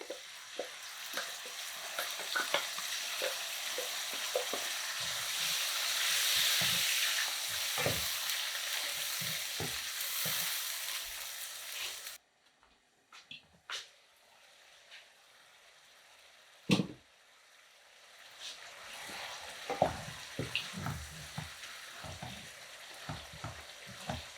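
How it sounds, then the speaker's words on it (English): Blended sauce is poured into a hot pot for a kidney bean and yam stew, sizzling loudly at first, then quieter scraping and stirring with intermittent clinks and bubbling. "So let's put our blended sauce in here."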